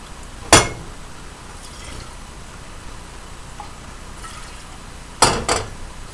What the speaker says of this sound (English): I'm going to put a little bit more broth in here